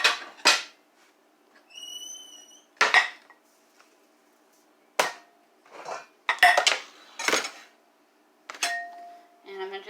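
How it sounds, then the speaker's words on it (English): Bowls and dishes handled in a home kitchen while preparing Dutch oven baked ziti, giving a series of sharp clinks and knocks spaced irregularly, some ringing briefly, close and moderately loud. "Grab another bowl."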